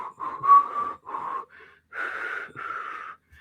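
A breathy, airy half-whistle carries a simple tune in several short phrases, with gaps for breath between them.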